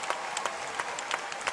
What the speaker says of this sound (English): He's milking the applause.